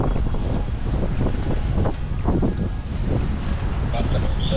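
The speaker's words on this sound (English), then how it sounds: "Got a little bit of wind now." Wind buffets the microphone aboard a sailing boat heading toward Gibraltar, a loud, rumbling roar with gusty swells, while a person talks over it.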